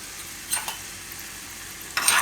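Chana dal and urad dal with mustard seeds fry in a pan, giving a soft steady sizzle broken by a few quick scraping stirs near the start and end.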